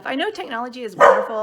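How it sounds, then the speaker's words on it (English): A dog named Chili barks once, sharp and close, partway through a woman's speech, with her talking continuing before and after the bark. "That was my dog, Chili."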